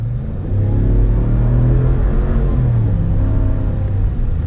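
A 2020 Ram 1500 Longhorn pickup truck with an 8-speed automatic accelerates, its engine rising from a low idle into a steady, loud rumbling pull that holds up close for several seconds.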